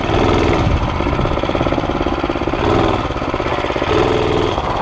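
A small mini bike engine runs close and loud, with a rapid, rattling putter that swells and eases slightly as the throttle shifts.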